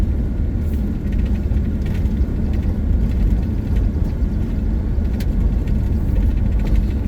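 A car drives along a gravel road at the Bison Range near Missoula, Montana, with a steady low engine and tyre rumble and faint crunching of gravel, continuous and close.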